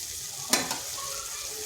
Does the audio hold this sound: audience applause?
no